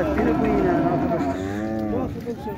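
Cattle at the Şarkışla livestock market in Turkey moo loudly and close by, one long drawn-out bellow rising and falling over the steady murmur of the busy market.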